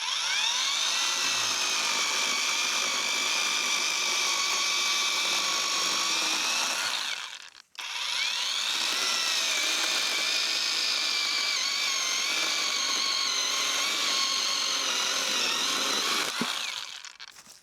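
A loud electric saw whines steadily through firewood, pausing briefly midway before cutting again at the same high, buzzing pitch.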